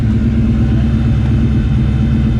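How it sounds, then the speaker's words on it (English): A car engine held in first gear with the rear wheels spinning on a 750 HP build with an 8.8 rear axle and a bent axle, a loud, steady low rumble of engine and drivetrain, close and unbroken. "So he's gonna put it in gear and we're gonna see."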